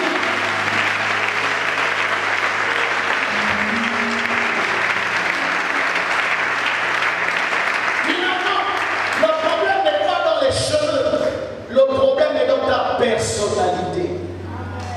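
A church congregation breaks into sustained applause to acclaim God, a dense wash of clapping that continues for several seconds before a voice and music rise over it.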